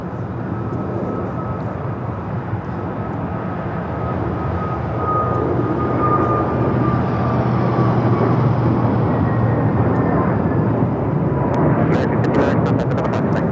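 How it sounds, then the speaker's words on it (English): An American Airlines Airbus A321neo takes off from Los Angeles International Airport for Kailua-Kona. Its jet engines make a steady, loud rumble with a faint whine, swelling slightly partway through, and voices are heard under it. "This is American Airlines Flight 59 taking off to Kailua Kona on the A321neo."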